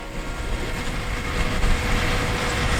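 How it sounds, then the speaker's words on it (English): A train runs along tracks beside the tulip fields near Haarlem in the Netherlands, a close, loud rumble that builds slightly as it passes. "if you guys hear these loud noises, because on the one side I have the train tracks"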